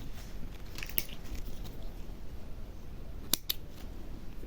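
Scissors snipping sewing thread after backstitching, two quick close crisp snips heard alone against faint background noise.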